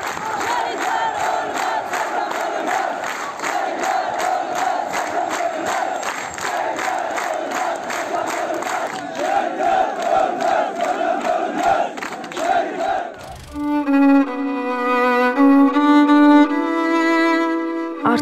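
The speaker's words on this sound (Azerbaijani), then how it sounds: "Generalın ölümünü eşidən insanların onun yaşadığı evinin qarşısına toplaşmağı və bu izdiham" Mourners crowd in front of the house of Major General Polad Hashimov, a large gathering raising loud, continuous chanting voices, after which the crowd noise cuts off and music takes over for the last few seconds.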